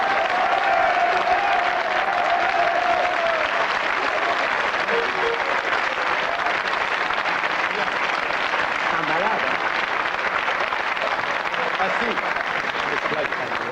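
Steady audience applause on a French TV game show, even and sustained throughout, with a faint voice heard under the clapping.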